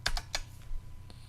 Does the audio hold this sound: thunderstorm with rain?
no